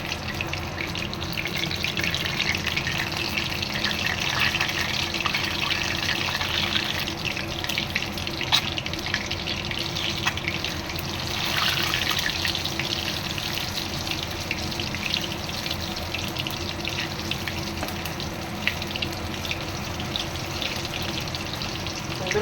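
Tomato chops and egg chops fry in oil on medium-low heat, a steady dense sizzling hiss that continues evenly throughout without pause or speech.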